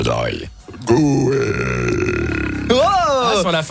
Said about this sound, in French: Non, j'ai roté.